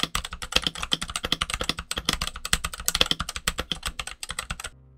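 Rapid typing on a Redragon mechanical keyboard with lubed switches: dense, close clacks and thocks in fast bursts, with a few louder strokes, stopping just before the end.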